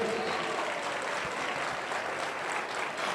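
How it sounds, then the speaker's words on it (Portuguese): Church congregation at an evening service applauding, a steady, even wash of clapping that holds at constant loudness for a few seconds. "aplauda o nome de Jesus nessa noite"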